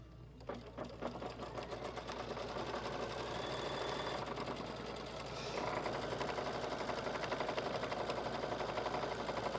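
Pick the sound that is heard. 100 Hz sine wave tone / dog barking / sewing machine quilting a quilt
sewing machine quilting a quilt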